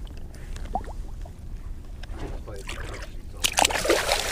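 A sturgeon is released into the water from a boat in the evening, with soft sloshing and a brighter splash burst near the end, heard under muffled background activity.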